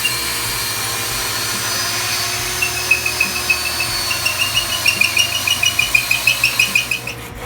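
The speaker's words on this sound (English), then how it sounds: "switch over to a hand cordless drill to drill the rest of the hole" Cordless hand drill boring into a wooden tool handle made from firewood, a steady motor whine with a rapid rhythmic chatter of pulses growing louder in the second half, close and alone.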